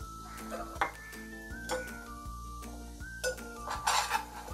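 Koli masala and turmeric fry in hot oil as a spoon clinks and scrapes against the pot in short strokes, a faint sizzle underneath and background music running throughout.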